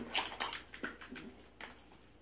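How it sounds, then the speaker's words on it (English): A year-old, cracked Lush Enchanter bath bomb drops into a tub of bath water, with close, quiet splashes and sloshing over a couple of seconds, then faint fizzing. "I will open up the enchanter bath bomb, and we'll throw his butt in"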